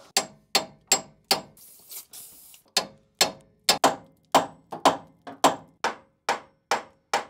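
Hard, evenly spaced hammer blows strike a threaded metal part under a vehicle, about sixteen sharp metallic knocks at a steady rhythm, close and loud with a brief pause midway.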